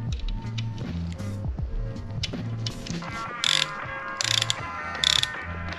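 A torque wrench tightening a bearing cap on a 3SGE engine during assembly: loud mechanical ratcheting clicks in quick runs, then three sharp, bright click bursts as it reaches its set torque, heard close and alone.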